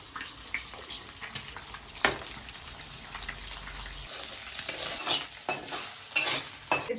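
Eggs for egg noodles stirring and frying in a pan, a steady close sizzle broken by scraping stirs and occasional clinks, with no talking.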